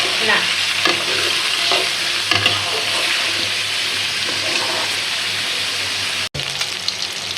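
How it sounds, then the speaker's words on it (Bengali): Seasoned chicken fries in a pan, a loud, steady sizzle with stirring scrapes and occasional clatter, cutting off briefly near the end before resuming; no speech. "তো এই যে আমার মুরগিটা ভাজা হয়ে গেছে"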